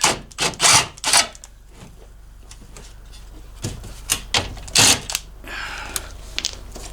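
Tools loosen bolts on a 3-inch body lift of a truck, giving sharp metallic clacks and ratcheting bursts in irregular clusters, close and fairly loud, with quieter handling noises between.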